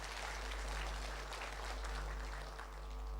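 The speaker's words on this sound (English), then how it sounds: "give her a big round of applause once again" Faint, steady applause from an audience at an education event, a continuous wash of clapping with a low hum beneath it and no clear speech.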